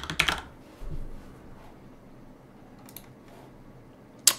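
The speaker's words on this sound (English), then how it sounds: "let's type in hardware asset" A short burst of computer keyboard typing starts the moment, then a few quiet clicks and a final sharp tap after a near-silent pause, close and faint.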